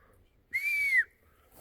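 A single clear whistle sounds outdoors, holding a steady tone for about half a second before dipping slightly at the end, with quiet low background rumble before and after.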